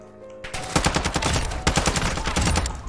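Rapid automatic gunfire in Call of Duty Warzone 2.0, a loud close burst of shots starting suddenly after a brief quiet moment and continuing in quick rattling bursts.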